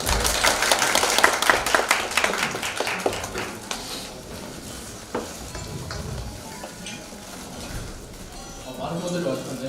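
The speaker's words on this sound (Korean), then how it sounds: "큰 박수로 맞아주세요" An audience at a DGIST x TED talk event applauds as a speaker is welcomed onto the stage. Dense, loud clapping fills the first few seconds, then thins out and fades beneath voices.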